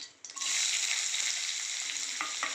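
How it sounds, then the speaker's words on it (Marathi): Onion sizzling loudly in hot oil with tempered spices in a pan while bitter gourd sabzi is cooked, a steady bright frying hiss starting abruptly and continuing throughout, with a couple of faint stirring knocks near the end. "त्याच्यामध्ये मी आता कांदा टाकून घेतो."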